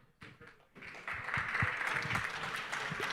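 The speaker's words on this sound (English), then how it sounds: "let's give a round of applause for the next panelists" A conference summit audience applauds panelists coming on stage: scattered claps build quickly into a sustained, dense wash of applause from a crowded room.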